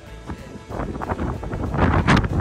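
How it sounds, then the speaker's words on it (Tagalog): Gusty coastal wind on the California coastline buffeting the microphone, rising and falling in uneven rushes, growing louder toward the end, with no talking. "Pero dala-dala pa rin ang hangin dito, no?"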